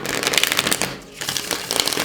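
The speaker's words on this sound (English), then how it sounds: "I'm just taking the cards back so we can shuffle again" A deck of tarot cards is shuffled by hand in quick riffling bursts, close and fairly loud, with a short pause in the middle before the shuffling starts again.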